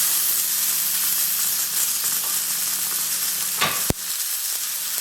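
Chopped peeled tomato hitting hot frying onions in a pan, a steady bright sizzle and hiss with a sharp burst of spitting near the end as the tomato goes in, close and loud with no talk.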